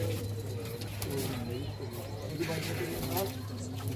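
Pigeons coo softly at a breeding loft, with low, rolling calls repeating over a steady background hum. Someone speaks quietly over the cooing.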